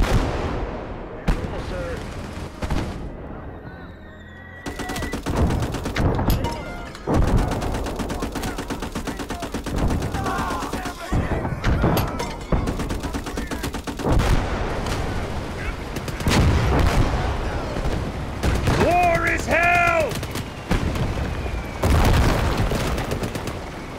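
Tank cannon blasts and bursts of small-arms gunfire ring out in a World War II hedgerow battle video game, with loud repeated booms and rattling shots in irregular bursts and brief quieter gaps between them.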